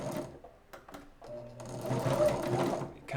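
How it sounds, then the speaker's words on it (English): A household sewing machine runs a stretch stitch on fabric while the fabric is pulled, giving a steady mechanical whir with rapid needle clatter that speeds up and grows louder, joined by a few sharp clicks and brief handling noises. "It's one of the best stretch stitches you can do on just a household sewing machine."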